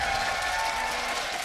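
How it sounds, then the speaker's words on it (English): Energetic live esports crowd in a Berlin arena, a loud, dense roar of applause and cheering that holds steady without a break. "Crowd is hyped. We've got an energetic crowd today here live in Berlin."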